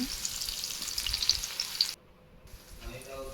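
Onion and tomato sautéing in hot oil with spices, a close, bright sizzle for about two seconds that cuts off suddenly, followed by a quieter stretch with a faint sizzle returning.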